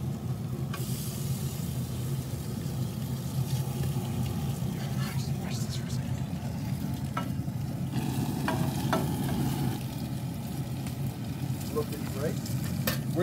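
Bacon sizzling on a flat-top grill griddle beside mushrooms, a continuous crackling fry with occasional spatula clicks, and someone talks over it.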